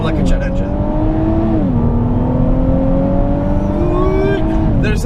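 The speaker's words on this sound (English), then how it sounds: "Listen hard for when the boost kicks, and you can hear it start doing, you know, sort of like an M1 Abrams tank, perhaps, or like a jet engine." A 2017 Infiniti Q60 Red Sport 400 accelerates hard in third gear, its boosted engine droning loud and steady with a rising tone as revs build, heard from close by.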